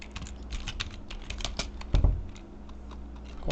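Fast, close clatter of a computer keyboard while ordinary text is typed, with dense rapid keystrokes and a heavier thump partway through.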